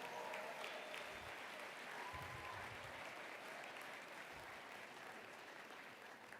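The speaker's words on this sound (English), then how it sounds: "Folks, let's give all 14 people a huge round of applause" A crowd at a gala auction claps in steady, dense applause that holds at an even level from start to finish.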